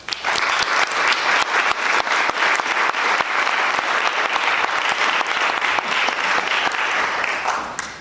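A debate audience breaks into loud, sustained applause for the incoming moderator, a dense, even wash of clapping that lasts about eight seconds before tapering slightly at the end.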